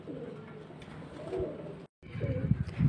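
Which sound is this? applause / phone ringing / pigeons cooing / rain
pigeons cooing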